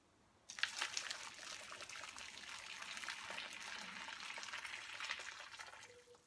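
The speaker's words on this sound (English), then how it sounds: "The amount of water should not be too much, but it should really cover the entire fish." Water pours steadily into a pan over pomfret fish being braised, a soft continuous splashing trickle that starts abruptly and runs for several seconds before easing off.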